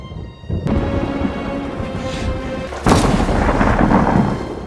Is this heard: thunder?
yes